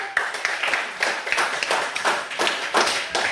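Classroom students clap in a brisk, uneven burst of hand claps with sharp individual slaps standing out, close and fairly loud, with a few voices faintly mixed in.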